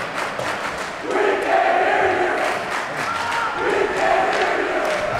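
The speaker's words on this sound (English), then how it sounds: "Oh, and a little taunting cheer from the Mamaroneck student section." A high school ice hockey game at Mamaroneck, where the home student section lets out a taunting chant-like cheer; a dense, steady wall of massed young voices rises and holds in a noisy rink.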